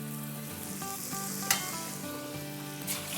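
Puri dough dropped into hot oil for halwa puri, frying with a steady close sizzle and bubbling, a sharp splash-like burst midway and low humming tones underneath, no talking.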